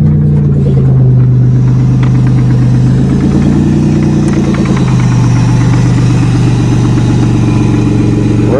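A Toyota Camry engine revving hard at a farm after winter storage, as if the gas pedal were stuck, a loud, steady near roar with rising and falling pitch and a rough, knocking edge, with no talk over it.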